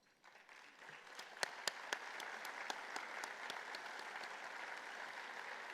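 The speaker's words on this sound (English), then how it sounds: "Can you please stand for a round of applause?" An audience at an honoring-the-brave breakfast applauds the sponsors with a broad, sustained round of clapping, a few sharp claps standing out nearby against the steady wash.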